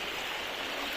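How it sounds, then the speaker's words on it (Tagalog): Steady, continuous rush of flowing river water near the sea in Real, Quezon, broad and even throughout with no pauses or voices. "Yan yung pinaka-ilog, Gar."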